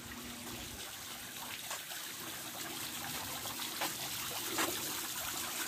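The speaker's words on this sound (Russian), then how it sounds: "Только запустили фонтан" A small public fountain in Crimea runs with a soft, steady trickle and splash of water, fairly faint and continuous outdoors, with light background ambience.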